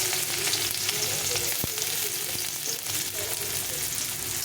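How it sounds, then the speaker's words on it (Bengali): Minced garlic and chopped onion fry in hot oil for a plain chow mein, a steady, close crackling sizzle throughout with a faint clink of a utensil partway through. "পেঁয়াজ রসুনটা একটু ভাজা ভাজা হয়ে গেছে"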